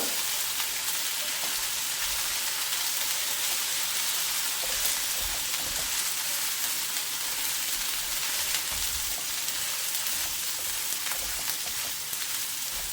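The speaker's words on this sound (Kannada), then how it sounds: "ಈ ಅರ್ಧ ಕೆಜಿ ಬೆಂಡೆಕಾಯಿ ಹದದಲ್ಲಿ ಮಾಡ್ತಾ ಇದ್ದೀನಿ. ಇದು ಚೆನ್ನಾಗಿ ಹುರ್ಕೊಳ್ಳೋಣ." Half a kilo of okra frying in a pan for a home-style okra mustard stir-fry, a steady dense crackle and hiss throughout with no talking.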